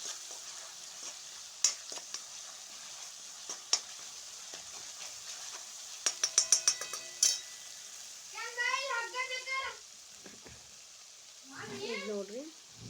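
Brinjal curry with grated fresh coconut, turmeric, garam masala and chilli powder stirred in a frying pan: soft sizzle under scattered scraping clicks, a quick burst of taps midway, then a couple of short voiced, meow-like sounds near the end.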